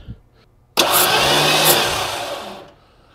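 A car engine with a spark plug removed cranks over on the starter for about two seconds, a loud, dense whirring with rhythmic puffs of air from the open plug hole, starting abruptly and then fading out.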